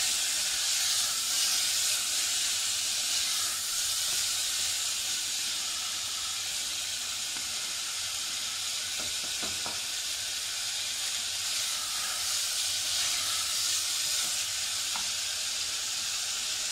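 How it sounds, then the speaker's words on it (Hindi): Chana dal masala filling frying in a pan, a steady broadband sizzle and hiss running throughout at moderate level, with a few brief stirring scrapes partway through and no talking. "तो इसी तरह से फ्राई करेंगे ताकि इसका मसाला अच्छी तरह इसमें मिल जाए।"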